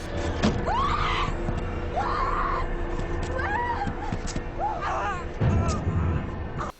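Several shrill, rising-and-falling stock screams from a horror film ring out one after another over background noise, followed by a low rumble.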